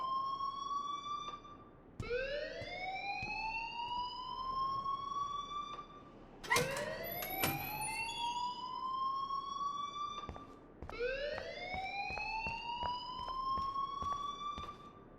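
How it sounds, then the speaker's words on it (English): Electronic alarm in the video game Life is Strange, a rising whooping siren tone repeating in sweeps every few seconds, steady and moderately loud with a brief clatter in the middle. "please turn off that alarm since that's your job"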